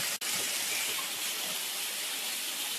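Water poured from a container into a pan of curry, a steady gushing stream heard up close for about three seconds with no one talking.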